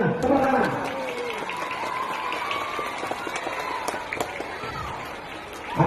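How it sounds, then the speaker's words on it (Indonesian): A crowd claps at an outdoor flag ceremony for National Teachers' Day at an Indonesian primary school, a steady wash of many hands that carries on for several seconds with background chatter mixed in. "Tepuk tangan"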